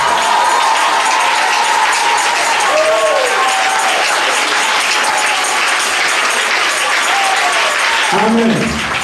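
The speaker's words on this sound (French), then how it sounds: "Autant tu acclames, autant ta bénédiction est grande." A congregation at an annual church convention in Bouaflé, Côte d'Ivoire, applauds loudly and continuously, dense clapping mixed with cheering and shouted voices throughout.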